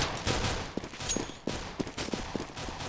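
Stacked grenades burst in a competitive first-person shooter match, a flurry of quick muffled pops and bangs over about three seconds, moderately loud within game noise.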